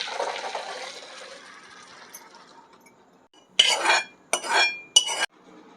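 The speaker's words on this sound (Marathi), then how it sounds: "पाणी ह्यातलं सगळं काढून घ्यायचं आहे" Water from boiled corn being drained in a kitchen, three short splashing pours with clinks of the pot and lid, close, following a fading hiss.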